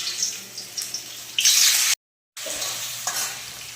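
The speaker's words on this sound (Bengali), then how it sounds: "এবার তেলের উপরে, তেল গরম হয়ে গিয়েছে, তেলের উপরে আমি ভেজে নেব" Boiled potatoes sizzle steadily in hot oil for potato curry, a close, loud frying hiss that swells midway, cuts out briefly, then resumes at a moderate level.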